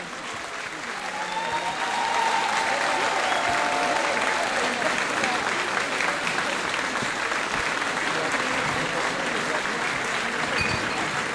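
A large audience at a New Year ceremony in Montreuil breaks into sustained, steady applause that swells after a moment and holds strong throughout, with a faint voice briefly audible early on.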